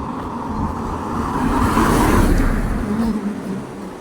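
Busy street traffic rumbles steadily, and one vehicle swells loudly as it passes close by, then fades back into the road noise.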